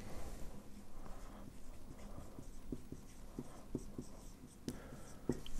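Marker writing by hand on a surface under a content camera, giving soft scratchy strokes in a steady irregular rhythm, close and fairly quiet, with a couple of sharper taps near the end.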